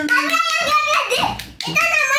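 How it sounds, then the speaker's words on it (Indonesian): Hand clapping for a contestant at a family dance contest, with children and adults joining in, loud and close. Excited voices and chatter run over the clapping. "wow beri tepuk tangan"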